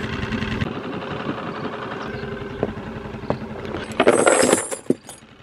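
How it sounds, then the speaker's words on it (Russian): An outboard motor on a heavy wooden boat runs at a low, steady idle, then gives a short louder burst with some clattering before settling back down. "когда он завел мотор"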